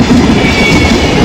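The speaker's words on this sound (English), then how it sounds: "It automatically added the perfect train sound, exactly how I wanted it." AI-generated train sound effect: a steady, loud rumbling roll of railcars with a faint rhythmic clatter, continuous and close throughout the short stretch, with no voices.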